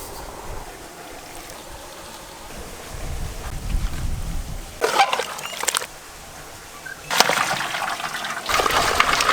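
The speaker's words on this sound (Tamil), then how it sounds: "இப்போ தண்ணி ஊற்றி கலந்துக்கலாம்." Water is poured into a batch of 450 grams of soaked samba wheat semolina while preparing mutton haleem outdoors in a village. The pouring comes as two loud splashing bursts over steady wind and outdoor rumble.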